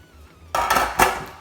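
A heap of corn, sweet potato and pepper mix tumbles into a big bowl, a quick rattling clatter followed by a second knock of utensil on the bowl, brief and close.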